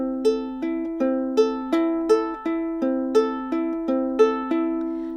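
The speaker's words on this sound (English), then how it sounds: "what I do is that I pluck upwards with my 3 fingers" A ukulele is plucked upward with three fingers in a steady repeating pattern, clear bright notes ringing one after another and close-up with no talk.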